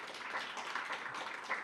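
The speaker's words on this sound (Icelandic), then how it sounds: "við skulum bara klappa fyrir þeim." Audience at a presentation meeting about the 2014 Nordic championships clapping for riders who are absent, a soft, fairly faint patter of many hands held steadily throughout.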